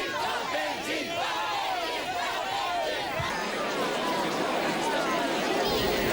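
Large crowd of townspeople and visitors gathered for a trial, a dense babble of voices and shouts with loud cries rising and falling, continuous and close.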